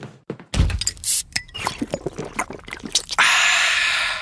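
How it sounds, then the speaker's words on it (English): A sharp metallic crack and fizz as a Coke can is opened, followed by liquid pouring and bubbling, ending in a steady loud carbonated hiss. "can I try out a few Coke Summer sound effects on you?"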